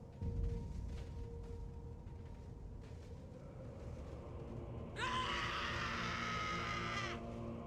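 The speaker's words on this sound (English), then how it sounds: "Well, that is some nasty screaming." Harsh, raspy screaming from Dark Elves in Total War: Warhammer, a dense shrill cry that bursts in partway through over a low rumbling battle bed and holds for a couple of seconds.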